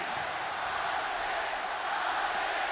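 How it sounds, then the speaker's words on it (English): A crowd roars from behind an Overwatch esports stage, a steady, distant wall of massed voices holding at an even level throughout. "you can hear the stage behind them, the crowd roaring"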